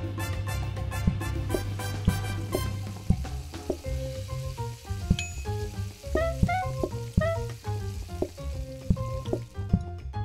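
Fried food sizzles in the PlateUp cooking video game, a soft continuous crackle beneath busy game music with plinking tones and beats throughout.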